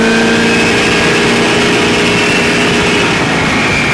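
A car engine strains steadily under acceleration in narrow-ratio gears, a loud continuous drone with a faint rising whine throughout and no voices.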